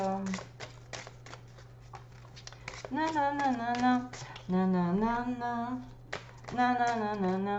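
Tarot cards being shuffled by hand, a steady crisp riffling and sliding of the deck running throughout under a woman's close, clear speech.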